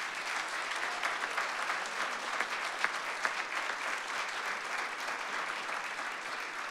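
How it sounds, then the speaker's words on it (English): Steady applause from a lecture audience at an evening land use planning lecture, dense and sustained throughout with a few sharper individual claps standing out. "A round of applause for Becca"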